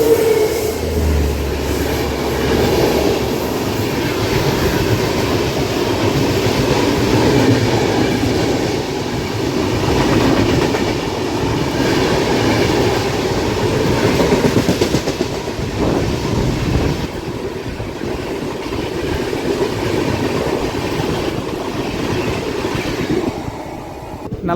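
The 07034 Mysuru–Kakinada special train runs along the rails with a loud, close, continuous rumble and rhythmic clickety-clack, plus occasional faint wheel squeal, steady throughout with no talking.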